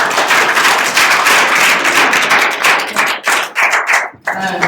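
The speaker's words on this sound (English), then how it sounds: "Can we give everyone a big round of applause?" A room full of people giving a big round of applause at the close of a talk, a loud, dense burst of clapping that thins into scattered claps toward the end.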